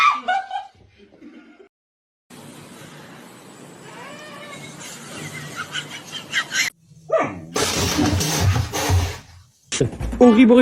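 A cat letting out short, dog-like barking yelps in bursts amid a noisy cat scuffle, with brief silences between outbursts and loud scrambling toward the end; someone reacts with voice in between.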